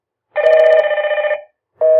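Indoor intercom station ringing on a call back from the panel: a steady electronic ring tone lasting about a second, a short pause, then the ring starting again, loud and close with no talking.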